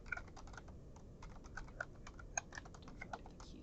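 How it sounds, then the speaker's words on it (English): Fast, light clicking of a computer keyboard as a name is typed into an Excel spreadsheet, a quiet, fairly even patter of keystrokes with a couple of sharper taps. "I'm going to type his name underneath."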